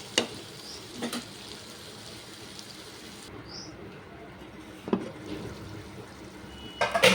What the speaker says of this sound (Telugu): మళ్ళీ ఒకసారి కలుపుకుందాం